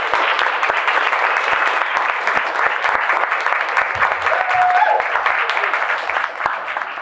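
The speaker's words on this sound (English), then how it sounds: "Let's give a warm round of applause for Shelly." A conference audience at an impact summit gives a speaker sustained applause, loud and dense, with sharp individual claps cutting through the wash and a few voices faintly underneath.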